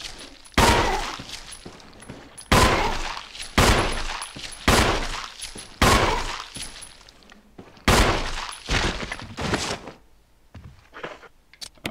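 Gunshots from a firearm in the video game Resident Evil 4, loud close single shots fired at irregular intervals, each with a sharp crack and a short ringing decay, about seven blasts.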